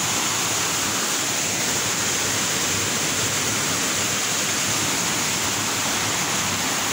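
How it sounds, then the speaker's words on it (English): A steady, loud roar of the Seven Beauties waterfalls in Gabala, water pouring continuously down a steep hill without pause. "A total of seven waterfalls falling down from a steep hill."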